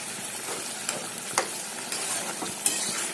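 Milk being stirred into a dish cooking in a pan: a soft continuous sizzle with several sharp spoon scrapes and clinks against the pan at irregular intervals.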